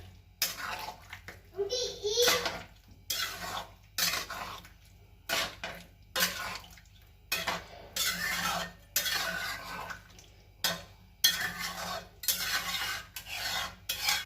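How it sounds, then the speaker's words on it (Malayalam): Chicken masala is stirred in a pan in short scraping, clattering bursts of spoon against metal, close up, while a voice and other speech are heard in the background. "ഒന്നിതിൽ മിക്സ് ചെയ്ത് വിടാം."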